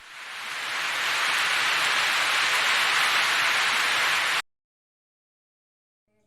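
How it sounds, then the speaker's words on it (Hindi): Steady hiss of rain falling, constant and fairly loud, then cutting off abruptly into silence. "देखते देखते ही बारिश भी होने लगी।"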